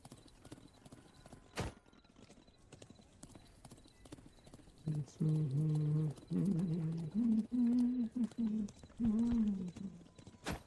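Hooves of mounted horse units in the Thronefall strategy game clop in quick, rhythmic bursts. Louder galloping clusters crowd the second half, and a whinny-like tonal call rises over them.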